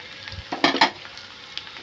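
Ginger garlic paste sizzles and fries in a pan, a steady low crackle broken by a few louder bursts of stirring partway through, close and without any voices.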